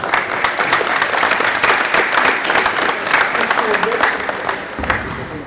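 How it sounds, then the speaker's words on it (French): An audience at a technical talk claps in a dense, steady burst, with a voice faintly underneath. "Je vous demande de l'applaudir"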